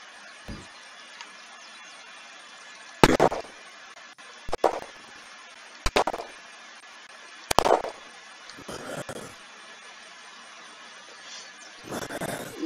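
Sharp, booming blasts in the video game Unturned, including a grenade explosion: about half a dozen separate hits spaced a second or two apart over a quiet, steady hum.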